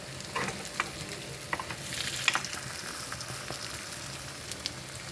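Appe sizzle and fry in an appe pan as they are turned to cook the second side, a steady close crackle broken by small scraping clicks, with no voices.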